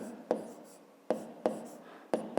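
Writing out a fifth-grade geometry equation, with close, faint taps and scratches of a pen or chalk in short strokes, four distinct touches separated by quiet scratching, and no speech.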